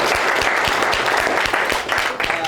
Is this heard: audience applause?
yes